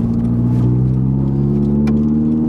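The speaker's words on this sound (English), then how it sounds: "I'm just basically showing off the exhaust for you guys." A car's exhaust drones steadily with a low, even engine note while driving along a country road, loud and close throughout, with no clear rev spikes.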